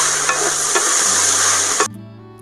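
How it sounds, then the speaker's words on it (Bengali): Drumstick flowers and vegetables fry in a pan while a spoon stirs them repeatedly, a loud hissing sizzle with soft scraping knocks that cuts off abruptly near the end. "এখন এই যে ঘন ঘন এইভাবে নাড়তে হবে"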